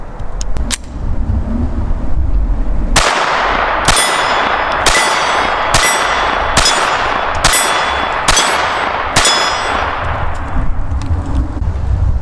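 A Llama .22 pistol fired up close: seven sharp, loud shots at a steady rhythm after two faint early clicks, each crack ringing with a metallic clang.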